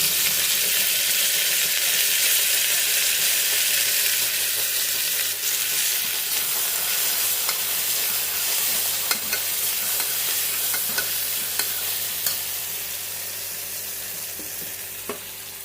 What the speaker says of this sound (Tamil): இப்போ புதினா கொத்தமல்லி போட்டுக்கலாம்